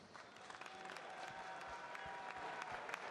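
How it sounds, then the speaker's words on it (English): A boxing audience at Headingley gives a steady round of applause for both fighters after a four-round bout, dense clapping that builds slightly over a few seconds and sounds somewhat distant. "if we could please get a nice round of applause out here for both of these fighters."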